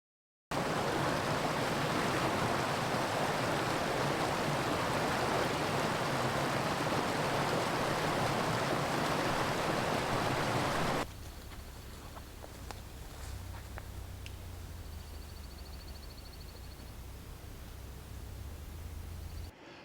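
A creek flows below a slope in the Bighorn Mountains, a steady broadband rush of water for about ten seconds before it drops to a quieter, distant hush.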